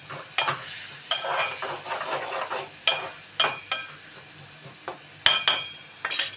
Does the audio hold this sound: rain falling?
no